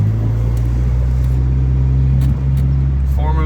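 A German-market Honda Civic hatchback with a swapped-in D16 engine drives along, its low, steady engine drone and road rumble heard from inside the cabin, with a voice briefly speaking near the end.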